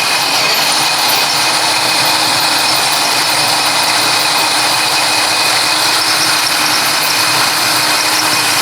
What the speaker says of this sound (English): So when you're drilling this, be careful.